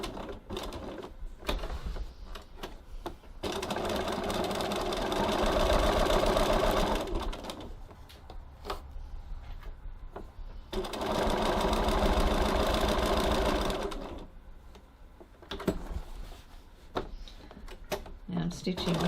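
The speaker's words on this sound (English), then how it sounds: "Now I'm stitching" A sewing machine stitches a tote bag using a number 57 edge foot, running in two steady bursts of several seconds each, with quiet talk and pauses between the runs.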